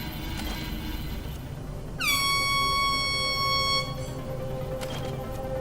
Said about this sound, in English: I think we want to use our air horn.